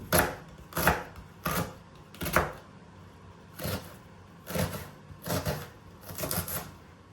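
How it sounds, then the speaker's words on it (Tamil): A knife chopping onions into small pieces on a board, a series of close sharp taps in uneven bursts with short pauses between them. "வெங்காயத்தை சின்ன சின்ன வெட்டுவோம்."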